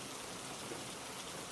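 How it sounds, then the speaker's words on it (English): Rain falls steadily on a cottage roof during a storm, a dense, even hiss of drops with no breaks, soft and close. "The rain falls in long silver threads,"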